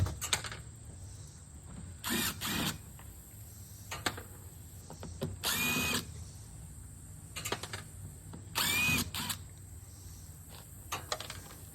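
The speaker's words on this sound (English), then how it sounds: "Then you're going to get your drill with a star bit." A power drill with a star bit whirs in short bursts while backing screws out of a dishwasher being scrapped, each run lasting about a second, with clinks and handling noises between the bursts.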